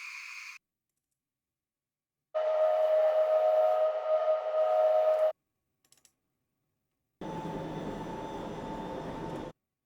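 Train sound effects from the Densha de GO video game play as separate bursts: a short high tone, a sustained whistle-like tone lasting about three seconds, a few faint clicks, then a longer rumbling running sound. Silence falls between the bursts.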